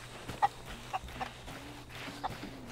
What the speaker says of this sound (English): I'm here selling my chickens